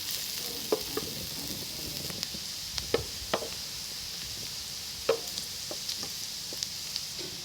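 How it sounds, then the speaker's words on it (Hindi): Chopped onion softening in hot cooking oil gives a steady, faint sizzle, with scattered spoon taps and stirring scrapes through it; no one talks. "जो मैंने प्याज चॉप करके रखा था वो सबसे पहले इसमें शामिल करेंगे। प्याज को हल्का सा हमने सॉफ्ट कर लेना है ऑयल के अंदर।"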